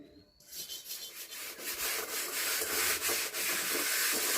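Steady rasping scrape of a blade against the burnt patch of a wok, close and continuous with faint rhythmic strokes, starting after a short quiet moment.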